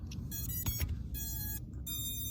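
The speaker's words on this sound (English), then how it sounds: "Let it beep." A Holy Stone HS510 drone gives three sustained electronic beeps right after power-on, each lasting about half a second, over a steady low rumble close by.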